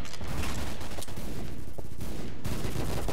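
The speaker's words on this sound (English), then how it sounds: "Everybody's shooting me!" Gunfire from the shooter game Double Action: Boogaloo crackles in dense, rapid bursts, with loud overlapping shots running the whole time.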